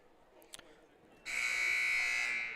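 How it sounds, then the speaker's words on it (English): After a short quiet stretch with faint background noise, a loud, steady electronic basketball timeout buzzer blares and holds for over a second at a girls' basketball game. "There's that first buzzer."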